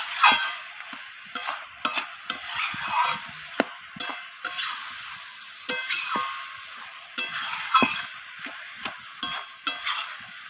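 Cabbage with fish head stir-fried in oil in a pan, steady close sizzling broken by repeated sharp scraping strokes of a spatula in an irregular rhythm.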